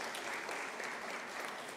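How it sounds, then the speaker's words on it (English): Sustained applause from an audience at an official academic-year closing ceremony, an even wash of clapping from a sizable crowd heard alone at moderate distance. "Can we give Dr. Molapo and the team a round of applause?"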